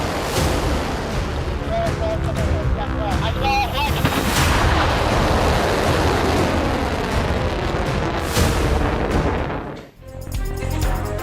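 A barrage of missile strikes pounds out as a long, loud series of overlapping blasts and rumbling explosions. Voices talk underneath, and the roar briefly cuts out near the end.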